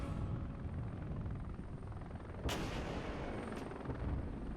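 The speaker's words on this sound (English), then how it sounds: "My helicopters arrive so they can start launching HGMs onto the T-72s." Military helicopters arrive in the war game Regiments. A steady, loud rotor drone fills the whole stretch, with a couple of sharp bursts like weapon fire cutting through it.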